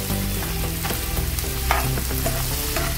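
Two finely chopped onions frying in a pan toward brown, a steady close sizzle with faint scraping of a stirring spoon, no talking.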